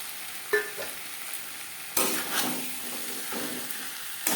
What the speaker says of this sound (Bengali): 3-4 মিনিট মশলা কষিয়ে নেওয়ার পর দিয়ে দেবো ভেজে রাখা আলু।